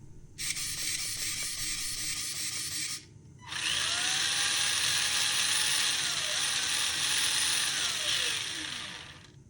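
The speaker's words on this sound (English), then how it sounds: "Servo is now being installed, and now we'll give it a little power." Small electric RC servo in a Tamiya Hornet Evo car build whirring under power, a close buzzing mechanical grind in two bursts separated by a brief pause, the second longer with a shifting whine.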